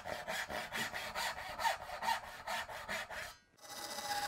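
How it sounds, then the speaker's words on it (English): A hand saw cuts walnut dovetail pins in steady back-and-forth strokes, about a dozen rhythmic rasps close up, then stops briefly before a fainter noise follows. "I'll lay out some random pattern that looks appealing and saw along those lines."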